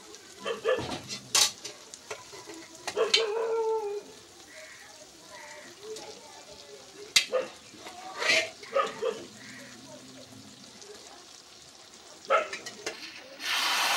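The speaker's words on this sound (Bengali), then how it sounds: "মশলার সাথে মাংসটাকে ভালোভাবে মিশিয়ে নেব" A spoon stirs pressure-cooked mutton into fried spice masala with chopped tomato in a pan, giving intermittent scraping and soft sizzling bursts with quiet stretches between them, while a dog barks faintly and a voice speaks occasionally.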